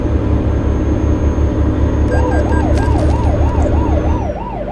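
Police siren in Euro Truck Simulator 2 on the Eskişehir–Afyonkarahisar road, a wailing rise-and-fall tone starting partway through over a steady, loud truck engine hum, repeating quickly and close.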